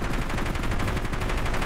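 A level-one helicopter autocannon firing in a video game, an unbroken rapid stream of heavy rounds, loud and close, hammering steadily with no talking.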